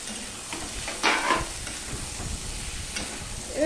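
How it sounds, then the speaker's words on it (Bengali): Ivy gourd is stirred and fried with onion, garlic and potato in a pan, a continuous close sizzle broken by a few louder scraping stirs. "পেঁয়াজের সাথে আলুর সাথে আমি মিশিয়ে নিয়ে এটা আমি ভেজে নেব ভালো করে"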